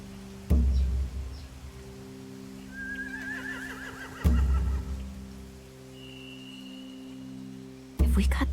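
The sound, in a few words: horses neighing in The Walking Dead video game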